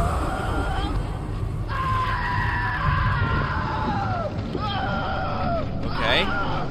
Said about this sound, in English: Oh, this screaming is new.